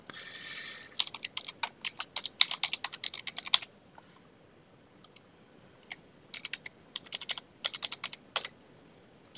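Typing on a computer keyboard while entering customer details into box office ticketing software: bursts of close, crisp key clicks in quick irregular runs, pausing briefly between entries, with no talking.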